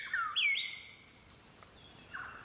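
A palm cockatoo calls in Australian rainforest, giving a few sharp rising whistled notes close by, then a fainter call after a short pause, over quiet background.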